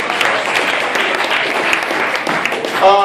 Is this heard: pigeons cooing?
no